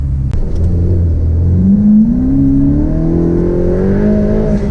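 A Ferrari F8 Spider engine revs past 3000 rpm as the exhaust valves open, a rising, throaty exhaust note that swells louder and sharper as the revs climb, with no talking.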